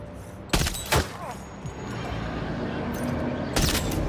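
Gunfire in the video game Death Stranding 2: a few sharp, loud shots with a pause between them, then a closing pair of blasts, all over a steady background rumble.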